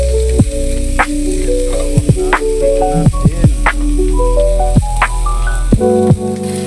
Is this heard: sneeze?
no